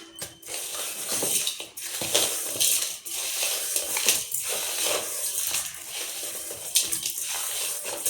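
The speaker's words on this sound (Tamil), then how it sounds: "இதெல்லாம் வந்து க்ளீன் பண்ண போகிறேங்க, உப்பு போட்டு க்ளீன் பண்ண போகிறேன்." Water runs steadily while fish are washed and cleaned with salt, a continuous splashing, rushing flow with small bumps and clatters, close and fairly loud throughout with no talking.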